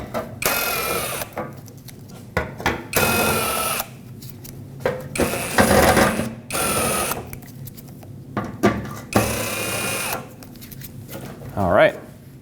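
Power tool removing four 10mm-headed bolts from a panel on a Nissan Frontier, several short bursts of whirring driver in quick succession with someone talking between them.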